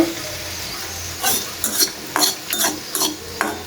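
Garlic frying in a pan gives a low steady sizzle beneath repeated sharp scrapes and clinks of a spatula stirring against the metal, several quick strokes in an uneven rhythm.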